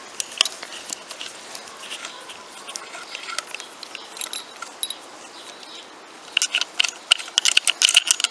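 A hand tool loosens the top cap bolt and stem bolts on a bicycle, giving close, rapid ratcheting clicks in uneven bursts that grow busier toward the end.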